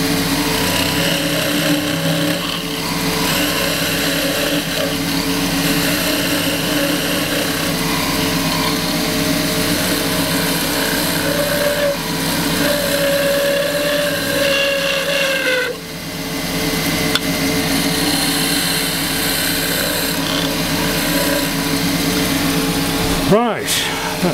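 Wood lathe spinning a spillikin stick while a skew chisel cuts it, a steady close whirring drone with scraping cut texture throughout, a brief dip near the end, and someone talking over it.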